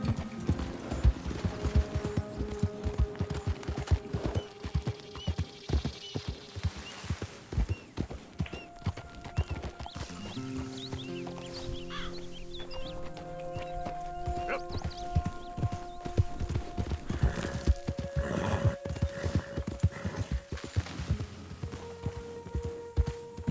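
A horse galloping in the video game Red Dead Redemption 2, rapid rhythmic hoofbeats on the ground that run continuously, with a whinny partway through and game music in the background.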